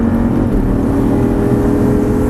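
An Audi R8 engine revving hard under acceleration on a driving course, a loud, continuous, steady roar close up, with no voices.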